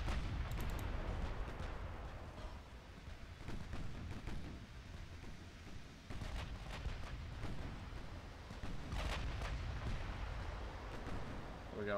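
Heavy booms and rumbling blasts roll continuously as 6-inch naval guns fire in the Ultimate Admiral Dreadnoughts battleship game, with several sharper salvos standing out against a dense, loud low-end background.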